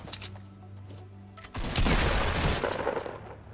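Shotgun fire in a Fortnite Battle Royale 2v2 match: a loud burst of overlapping blasts and impacts erupts midway and sustains for about two seconds after a quieter stretch with faint game sounds.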